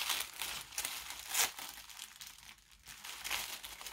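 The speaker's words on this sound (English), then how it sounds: "I'll rip the tissue paper." Tissue paper is torn and crumpled while an art subscription box is unboxed, giving close, loud crinkling and ripping bursts in an uneven rhythm, with no talking.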